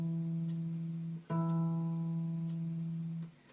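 A single guitar string, the fourth, is plucked twice in a beginner melody exercise: a clear sustained note rings, then a second pluck restarts it and it holds before fading, close and alone.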